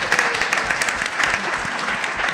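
An audience applauds with dense, continuous clapping, loud and close, filling the whole short stretch without a break.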